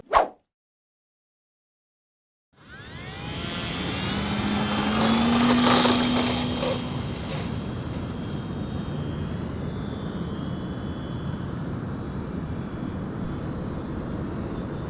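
A radio-controlled FMS Explorer model airplane flies past outdoors, its small motor rising to a loud whine then settling into a steady drone after a short silence.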